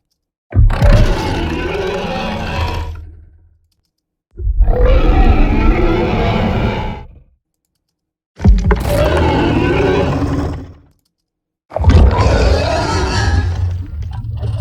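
Four long, deep roars separated by short silences, each heavy and growling with a rumbling low end, a layered mosasaurus sea-monster roar up close.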